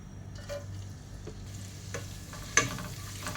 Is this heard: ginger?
yes